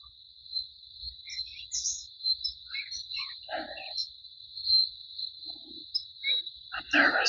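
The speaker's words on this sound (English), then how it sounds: "There's some large birds." Calls of large birds in the Belize jungle: scattered chirps and short calls at moderate distance over a steady high insect drone, with rustling and soft movement nearby.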